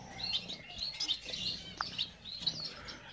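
A pair of fawn Bengalese finches in an aviary give quick, high, faint chirps and twitters in an irregular stream, close by, with no talk.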